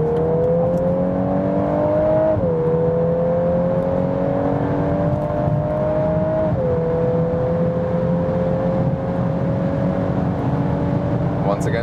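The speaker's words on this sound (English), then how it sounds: "how's the acceleration when we are already at speed getting out of the tunnel" A VW Golf 8 R engine pulls hard at speed out of a tunnel, its steady drone rising in pitch through two upshifts, with loud wind and road roar continuing throughout.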